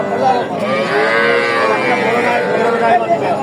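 A three-month-old bull calf moos loudly and continuously at a busy cattle market in Dinajpur, a single drawn-out close call.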